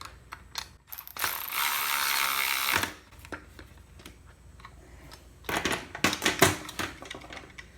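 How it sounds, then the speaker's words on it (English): Metal nut being spun back onto the blade hub of an EGO 56V electric edger, turned counterclockwise on left-hand threads: a burst of ratcheting, clicking mechanical noise lasting over a second, then scattered handling clicks and clatters, close up with no talk. "So we'll put the hub and the nut back on."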